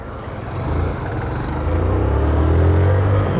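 Road traffic with many cars on the BR-101 highway near Natal, Rio Grande do Norte: a continuous low engine and tyre rumble that gradually swells louder and closer.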